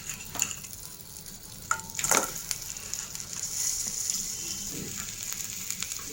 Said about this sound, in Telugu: ఇందులోనే పీతలు కూడా వేసుకుని మగ్గించుకుందాం